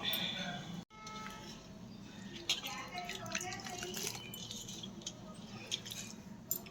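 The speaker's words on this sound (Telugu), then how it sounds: "కట్ చేసుకున్న కాకరకాయలు ఇలా నీళ్ళలో వేసి వాష్ చేసుకోవాలి" Cut bitter gourd pieces are washed by hand in a bowl of water, with light splashing, dripping and clinking close by. A voice talks faintly over the washing.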